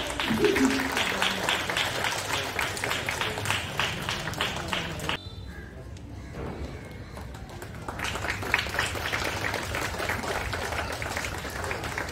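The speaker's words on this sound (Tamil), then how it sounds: "ஒரு பெரிய கைத்தட்டு." A school crowd claps at a Grandparents Day event at Don Bosco Matriculation School: loud, busy applause that drops to a quieter lull midway, then swells again to the end.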